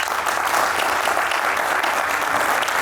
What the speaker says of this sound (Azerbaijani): Təşəkkür edirik alqışlarınız üçün.